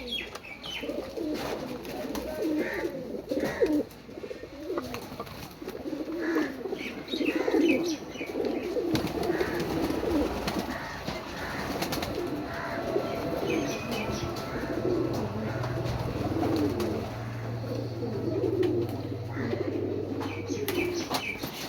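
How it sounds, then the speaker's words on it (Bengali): Many pigeons at a pigeon farm coo continuously in a low, throaty murmur, with occasional chirps and faint wing flutters throughout. "এবার এখানে বিভিন্ন পায়রা সেলে আছে।"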